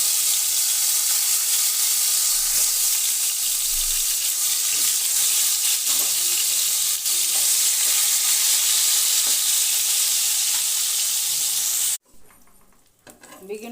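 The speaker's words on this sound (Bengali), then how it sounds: "মিডিয়াম আঁচে রেখে বেগুনগুলো ভেজে নিলাম" Eggplant slices rubbed with salt and turmeric fry in mustard oil in a wok over medium heat, giving a loud, steady close-up sizzle for about twelve seconds before it cuts abruptly to a quieter background.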